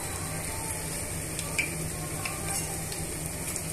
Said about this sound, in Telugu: ఇలా టర్న్ చేసుకుంటూ మనము డీప్ ఫ్రై చేసుకోవాలి.